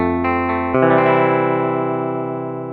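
A few electric guitar notes ring out on an AeroBand smart guitar's electric blues tone, warm and slightly gritty, the last one sustaining and slowly fading.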